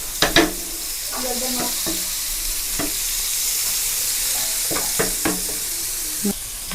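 Coconut oil hisses with a loud, continuous sizzle as fish fries in a pan, broken by occasional clinks and scrapes of a utensil against the pan, with no talk.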